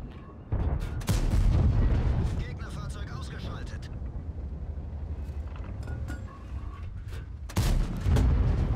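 Heavy booming shots from a tank destroyer's gun in World of Tanks, a loud blast near the start and another near the end over continuous rumbling battle noise, with someone talking throughout.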